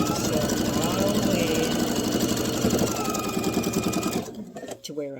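An electric sewing machine stitches a quilted star heart table runner, its needle chattering in a fast steady mechanical run for about four seconds before stopping, close and loud, with a voice speaking over it.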